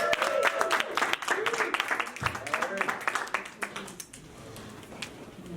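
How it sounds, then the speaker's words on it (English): An audience at a live breakthrough workshop gives a round of applause, brisk clapping that fades out toward the end, with voices mixed in. "big round of applause"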